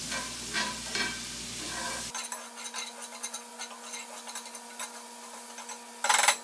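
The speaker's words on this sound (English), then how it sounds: "So we're gonna get a nice good color on these onions." Onions fry in a pan for ropa vieja, a continuous sizzle with clicking utensil stirs and scraping, ending in a brief louder burst of hiss.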